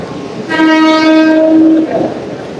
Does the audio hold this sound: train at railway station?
yes